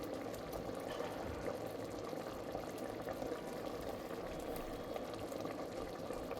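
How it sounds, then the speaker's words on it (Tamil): A steady bubbling simmer of food boiling in a clay pot, close and continuous, with no voices. "இப்போது ஆஃப் பண்ண ஒரு 5 நிமிஷத்துக்கு கூட கொதிக்கும் மண் பாத்திரன்றதுனால"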